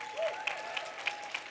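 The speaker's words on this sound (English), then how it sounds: "A round of applause." A short burst of applause at a closing ceremony, a dense patter of clapping from an audience with a few sharper claps standing out.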